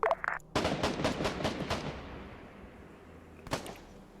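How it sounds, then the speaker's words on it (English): Mortar fire hits in a military video game, a rapid burst of several booming reports in quick succession that trails into a fading rumble, then one more distant boom near the end. "Mortars, fire mission."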